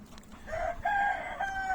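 A chicken gives a drawn-out tonal call, close by, with a second bird answering; quiet background and no talking.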